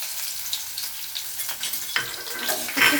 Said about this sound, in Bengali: তেলটা গরম হয়ে এসেছে, এখন পেঁয়াজ কুচিগুলো দিয়ে দিব